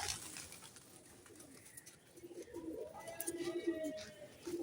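Flight pigeons cooing softly in a low, rolling murmur, with wing flutters and faint outdoor background noise.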